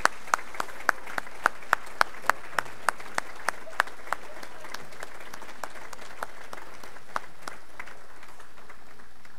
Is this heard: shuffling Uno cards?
no